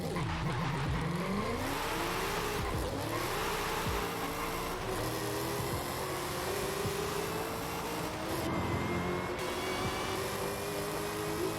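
Race car engine in the Forza video game, revving and shifting up through gears with tire squeal, loud and continuous.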